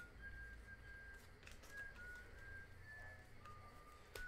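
Whistled tune from a long-running TV commercial, heard as a thin, clear melodic line of sustained notes playing faintly in the background over a low hum, with no talking.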